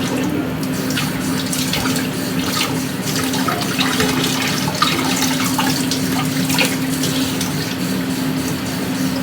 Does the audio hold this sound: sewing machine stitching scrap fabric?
no